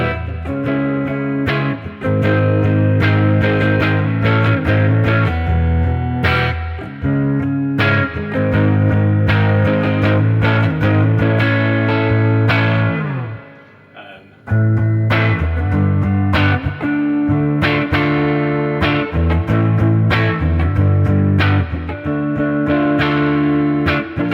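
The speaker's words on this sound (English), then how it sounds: "So just go through some sort of chordy sounds." Thick, saturated electric guitar strummed in chords on a PRS SE Custom 24, loud and continuous, with a brief drop near the middle before the playing resumes.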